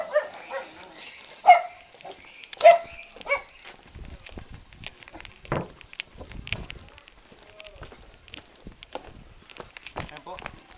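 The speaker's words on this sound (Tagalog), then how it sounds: "Aso." A dog barks a few sharp times close by, with yips and whimpers, while footsteps and scuffing sounds follow on a steep outdoor path; no one speaks during it.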